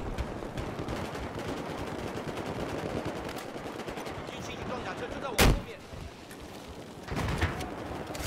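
Battlefield 4 gunfire on Xbox One: a steady dense crackle of automatic weapons runs throughout, broken by one loud sharp blast midway and another heavy burst near the end, with speech faintly mixed under the noise.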